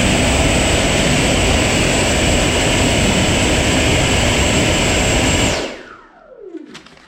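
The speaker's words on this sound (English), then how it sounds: "This is going to be run number 3 on the new fans, Platinum version 2" FMS 2100kv Platinum V2 ducted fans screaming at full throttle during a thrust test, a loud sustained high-pitched whine that cuts off abruptly, then spools down with a falling tone.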